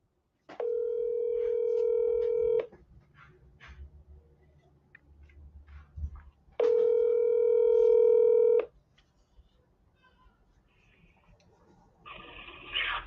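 A telephone call being placed: two long, steady dial-type tones separated by a quiet gap, each about two seconds, followed by a brief burst of higher ringing-like noise at the end, clear and close with no talk.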